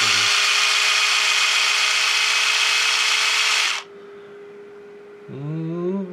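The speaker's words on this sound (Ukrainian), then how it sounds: "Пилка працює, значить проблема в акумуляторі." A small cordless electric chainsaw, being tested during battery repair, whirs loudly and steadily for several seconds, then cuts off, leaving a low hum before a brief sliding mechanical sound.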